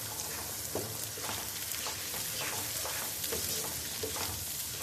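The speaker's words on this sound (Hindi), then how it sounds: "अब हम ऐड करेंगे टमाटर, और इनको भी हम सॉफ्ट होने तक पकाएंगे।" Tomatoes fry in a pan with onion and chili paste for egg biryani, a dense continuous sizzle broken by repeated stirring scrapes, close and steady with no talking.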